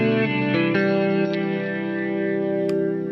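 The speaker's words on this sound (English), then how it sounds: "give me some chorus and delay and reverb and all the stuff that nobody wants" An electric guitar chord rings out through chorus, delay and reverb effects, a shimmering sustained tone with a few soft picked accents that fades slowly into a washy tail.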